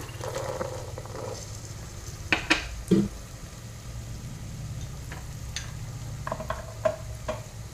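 Onion garlic paste and peas frying in a pan, a low steady sizzle with a few clinks and scrapes of stirring.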